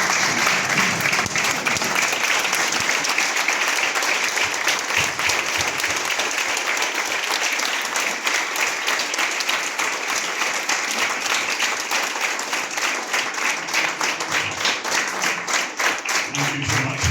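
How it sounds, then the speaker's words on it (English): Standing ovation at a player of the year awards night, a large room of people clapping loudly and continuously, with individual claps becoming more distinct and rhythmic toward the end. "can we please be upstanding and can we have a round of applause for Graham Leggett,"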